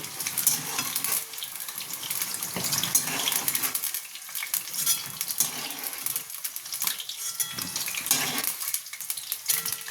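Pointed gourd (patol) pieces fry in oil in a pan, a crackling sizzle that swells and dips with stirring and scraping, heard up close without talk.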